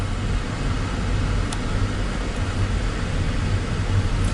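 A car driving along a road, a steady low engine and tyre rumble with broadband road noise throughout, close and even in level with no talk.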